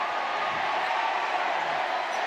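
Crowd in a basketball arena during an MPBL playoff game between Bataan and Pampanga, a dense, loud, continuous roar of many voices reacting after a hard foul, with no clear peaks.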